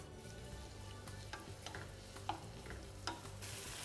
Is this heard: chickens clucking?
no